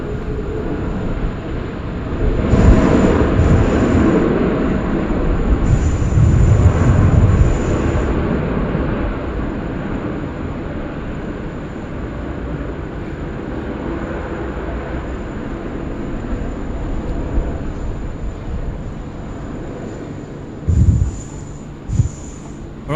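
A Qantas airliner lining up on runway 16 right at Sydney Airport, a broad, steady jet engine rumble and roar heard from a distance, swelling slightly mid-way, with a few brief knocks near the end.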